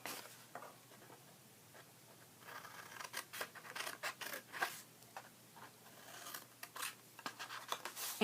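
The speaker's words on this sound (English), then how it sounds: "we're gonna cut this little corner off here" Scissors snip the corner off a small Easter treat bag in a run of quick, close, quiet cuts with short pauses between them.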